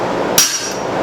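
A hammer strikes a guillotine tool during the forging of a spoon, making a single sharp, close metallic blow that rings briefly and then fades.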